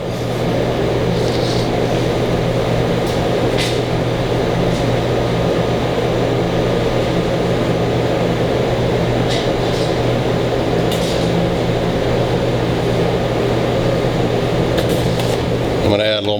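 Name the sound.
blender grinding jalapeno hot sauce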